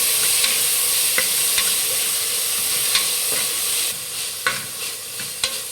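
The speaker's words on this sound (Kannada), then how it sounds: "ಇವಾಗ ಪುದೀನ ಸೊಪ್ಪು ಹಾಕ್ಕೊಳ್ಳಿ, ಟೊಮೊಟೊ ಹಾಕ್ಕೊಳ್ಳಿ, ಮಿಕ್ಸ್ ಮಾಡಿ ಚೆನ್ನಾಗಿ" Mint leaves and tomato stirred and frying in a pan for mint rice, with a steady close sizzle and hiss and scraping spoon strokes at irregular intervals throughout.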